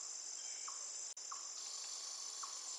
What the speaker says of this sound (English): Forest birds and some crickets maybe.